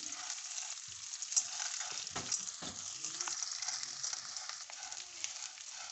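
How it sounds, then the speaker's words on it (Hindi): Boondi roasting in ghee in a pan crackles and sizzles steadily, close up, with a few soft stirring knocks and scrapes partway through and no voices. "फिर हम थोड़ा सा इसमें 1 चम्मच जो है ना घी डालेंगे, और अब हम ये चारों बूंदे जो है ना इनको रोस्ट करेंगे।"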